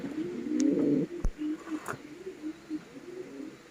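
Foreign-breed pigeons coo in a loft where nesting pairs sit on eggs, a male bobbing as he calls; low throaty coos roll on close and steady, with a few sharp clicks and bumps among them.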